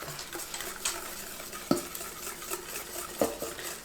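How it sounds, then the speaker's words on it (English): Egg is whisked quickly into hot brownie batter in a bowl, giving fast scraping and tapping strokes with a few sharper clinks against the bowl, close and fairly quiet. "So whisk it in fast."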